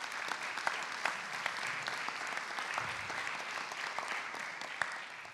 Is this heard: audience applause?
yes